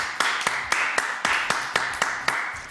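A small audience applauds for Nathalie with a steady, rhythmic clapping of about ten distinct claps, close and fairly loud.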